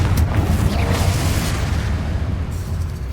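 Confringo fire spell blast in Hogwarts Legacy, a loud, close, deep explosive boom with a sustained low rumble that carries on for a few seconds.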